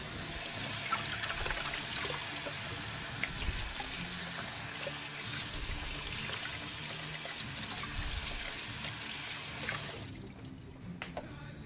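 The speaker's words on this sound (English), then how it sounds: "Need to add a splash of water to each." Water runs steadily from a kitchen tap for about ten seconds, a constant hissing pour, then cuts off abruptly, leaving quiet room tone.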